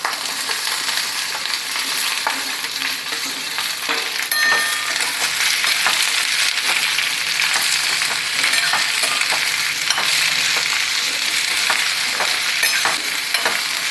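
Green chilies and green tomatoes sautéed in oil for chutney give a loud, unbroken sizzle, broken by repeated scraping and clicking strokes of a spatula stirring the pan throughout, with no talking.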